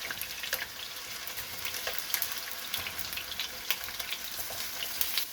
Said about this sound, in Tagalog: at ating ipipritong ating mga patatas